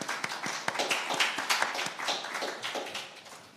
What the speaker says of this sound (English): So just a round of applause to all of those persons who were involved.